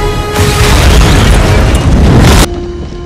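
A massive, loud crash and explosion of a plane hitting the Washington Monument in a film roars for about two seconds, then cuts off abruptly to a quieter background hum.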